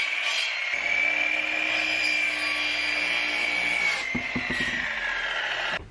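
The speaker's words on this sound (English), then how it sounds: "I just made two cuts" A power tool cuts through pipe for a ram pump intake, giving a steady, close, high-pitched whine for about four seconds. It then stops, and a few sharp knocks follow.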